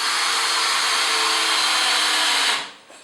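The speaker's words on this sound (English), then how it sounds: "you can see this machine has absolutely no trouble whatsoever putting these screws in" A Hitachi 18V combi drill drives a large screw with a loud, steady, close-up whirring motor whine that holds for over two seconds, then spins down abruptly.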